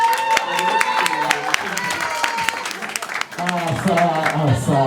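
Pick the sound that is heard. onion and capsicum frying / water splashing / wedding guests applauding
wedding guests applauding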